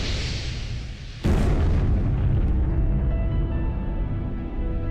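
A deep, loud boom of a crater-forming impact explosion on the Moon erupts suddenly after a quieter rumble, then a heavy sustained roar fills the rest of the clip.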